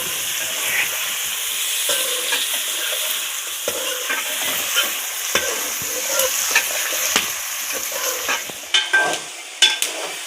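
Chicken frying in ghee with browned onions and ginger-garlic paste, a dense, continuous close-up sizzle broken by scraping stirs and the clink of a spoon against the pan, with no voices.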